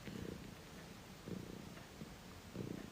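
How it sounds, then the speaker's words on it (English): A pet cat purrs close up in slow rhythmic cycles, each breath swelling and fading, steady and soft with no talk over it. "And the purrs are getting louder."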